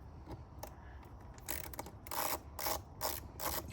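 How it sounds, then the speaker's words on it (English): A screwdriver ratchets as Phillips screws come out of a Lexus IS 250 mass airflow sensor, giving several close, quiet bursts of clicking in quick succession. "we're going to unscrew these little Phillips"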